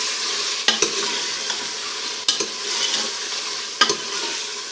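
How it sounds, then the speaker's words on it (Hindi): Chopped green chillies fry in mutton rogan josh, a soft continuous sizzle broken by three sharp scraping stirs of a spoon against the pot, spaced a second or more apart. "तो ये कटी हुई हरी मिर्चें हम इसमें शामिल कर देते हैं, और इसकी भुनाई अच्छे तरीके से करेंगे मज़ीद।"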